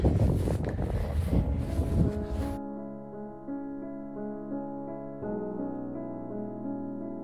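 Strong wind buffets the microphone at a prairie cemetery, loud rumbling gusts for the first two and a half seconds, then it cuts to a quiet sustained musical tone.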